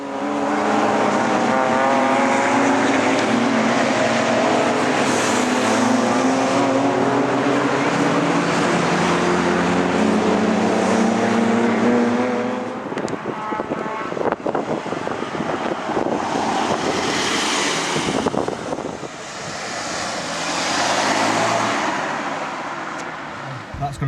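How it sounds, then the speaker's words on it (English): BMW cars, including an E36 and E92, lap a race track at a BMW show, engines droning loudly with rising and falling pitch as they pass close by, with wind buffeting the microphone and quieter engine noise later. "we're just going to have a quick look at the cars going around the track"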